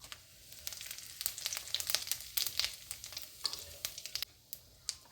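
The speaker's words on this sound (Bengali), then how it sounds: "এখানে আমি ফোড়নের জন্য জিরে, একটা শুকনো লঙ্কা, তেজপাতা নিয়েছি। এখন আমি ফোড়ন দিয়ে দিলাম।" Cumin seeds, a dried red chili and a bay leaf sizzle in hot oil for a Bengali potol paneer dish, giving a steady crackling fry with scattered sharp pops and spits throughout.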